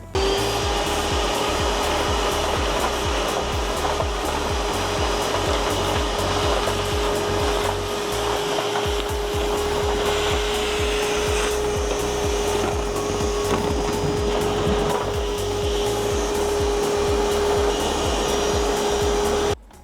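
A DeWalt DXV234P vacuum cleaner runs without its cyclone separator, sucking up large debris with a loud, constant motor whine while chunks rattle and clatter rapidly through the hose, no talking.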